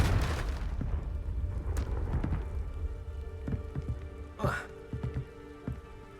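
An explosive spell goes off in Hogwarts Legacy: a loud burst at the start, then crackling and debris with scattered sharp impacts fading into game ambience.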